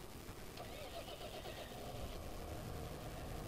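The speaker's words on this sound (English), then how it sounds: "We can jump in our tractor for now." Tractor engine idling in the farming game Farming Simulator 2015, a low, steady mechanical rumble at quiet level, continuous and even, with no speech over it.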